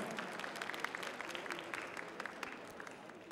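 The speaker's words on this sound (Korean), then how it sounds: "박수 보내주시기 바라겠습니다" A faint, steady patter of audience applause fills a hall at a Korean science teaching contest after a final score is announced, dense clapping sustained evenly without voices on top.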